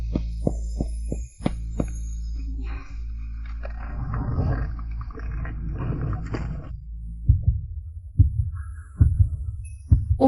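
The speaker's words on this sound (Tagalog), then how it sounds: "Bakit ganito ang tibok ng puso ko?" A dramatic heartbeat sound effect of deep, heavy thumps, first in a steady pulse, then under a swelling rumble in the middle, then returning as louder, close beats.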